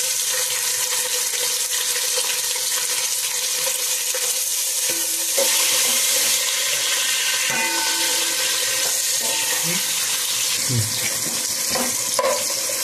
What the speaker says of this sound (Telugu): ఇప్పుడైతే ఇదిగోండి ఉల్లిపాయలు వేస్తున్నాను.